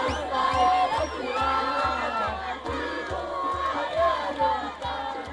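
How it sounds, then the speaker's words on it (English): A jubilant crowd welcomes a freed hostage home, loud continuous cheering and shouting with rhythmic chanting and clapping throughout. "free hostage Avi Natanor was welcomed home by a jubilant crowd"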